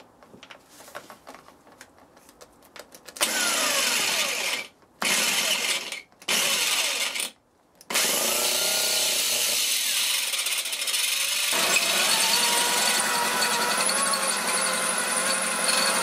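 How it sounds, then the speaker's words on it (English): Power drill boring out a seized bolt on a Triumph Tiger motorcycle's fuel tank mount, loud whirring bursts that start and stop twice before settling into a sustained grinding drone, with faint mechanical clicks beforehand. "tried to drill the bolt out"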